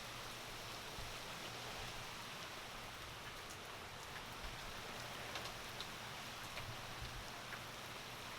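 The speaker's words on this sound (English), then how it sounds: "heavy rains picking up" Heavy rain from Tropical Storm Isaias pours steadily, a constant dense hiss with occasional droplet taps, even and unbroken throughout.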